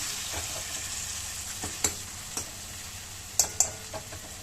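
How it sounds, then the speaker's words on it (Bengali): Spice masala fries in oil with a constant soft sizzle while a spoon stirs and scrapes the pan, giving several sharp clinks and taps spaced irregularly over the crackle. "মশলা একটু ভালো করে কষে নিই, যখন একটুতে তেল ছাড়বে না তখন আমি এতে ডাল দেবো"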